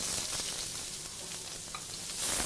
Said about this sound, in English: a good swizz of cold pressed rapeseed oil. Then we pop our onion in there